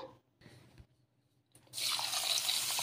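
Water pours in a rush over ration rice being washed, loud and steady after a quiet start with a few faint knocks.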